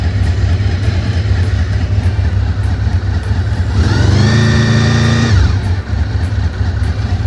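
A Honda VFR 800fi fifth-generation motorcycle engine runs loud and close on its first ride, holding a steady drone before rising in a clear rev and then dropping back.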